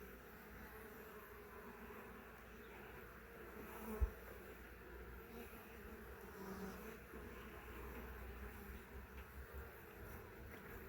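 Honeybees hum continuously around an open hive as frames of brood are inspected, a close, even buzzing drone with one brief knock partway through and no talk.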